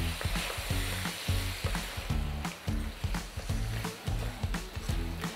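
Browned meat with onions, tomatoes and tomato paste sizzles in a pot for an African-style hotpot as a spoon stirs it in rhythmic scraping strokes, close and steady over a constant frying hiss.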